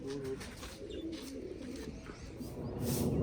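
Pigeons in a rooftop loft give a steady low cooing that runs on without pause, close and moderately loud, over a constant rumbling background.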